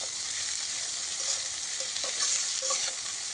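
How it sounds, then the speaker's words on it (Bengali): Leafy dheki greens being stirred into a shrimp mixture frying in a pan, with a steady close sizzle and light scraping stirs throughout, no voices. "শাকগুলোকে সুন্দরভাবে দিয়ে এবার মিশ্রণগুলির সাথে ভালোভাবে মিশিয়ে নিচ্ছি"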